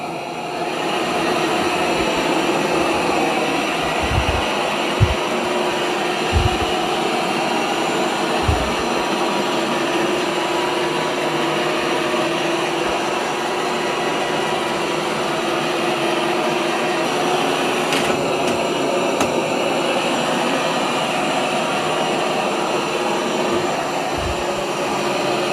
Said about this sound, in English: Okay, so I've started the eufy L60 to clean also